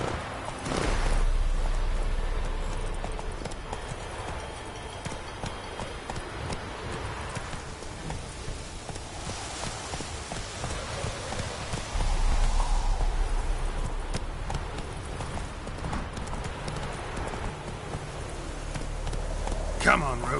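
Clip-clop of a horse galloping in a PS4 video game, a steady hoofbeat rhythm under game ambience and rain-like noise, with someone talking over it.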